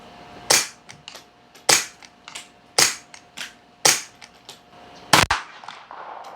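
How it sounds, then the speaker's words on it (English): Unsuppressed pistol firing subsonic ammunition, six sharp, loud shots spaced about a second apart, each with a short ringing decay, and no talking between them. "here's the subsonic ammo through the same pistol without the can"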